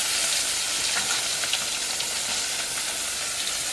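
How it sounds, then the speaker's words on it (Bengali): Fish fry in a pan with a dense, constant sizzle and hiss, close and fairly loud throughout, with faint crackles and no voices. "মাছগুলো লাল লাল করে এবার ভেজে দেবো।"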